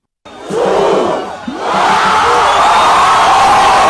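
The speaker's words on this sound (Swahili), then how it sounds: "Shangwe na nderemo zilitanda saa 6 na dakika 25 alipovunja rekodi yake." A large crowd roars and cheers loudly, a sustained wall of shouting voices with a brief dip before swelling again.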